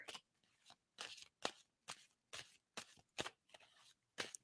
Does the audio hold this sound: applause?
no